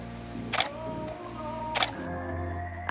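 A Tamron 35-150mm lens on a camera fires its shutter twice, about a second apart, while close-up headshots are taken at 150mm, each a crisp near click over a quiet background.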